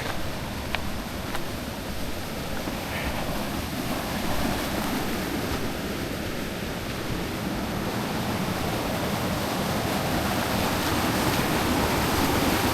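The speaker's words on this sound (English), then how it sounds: "Crossing the creek again" Creek water rushing steadily as hikers cross a stream on the Enchantments traverse, a broad, constant wash filling the whole stretch at moderate loudness, with no talk over it.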